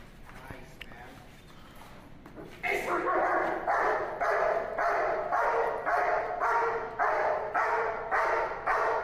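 After a stretch of quiet background, a dog starts barking loudly and steadily, a long run of evenly spaced barks that continue to the end.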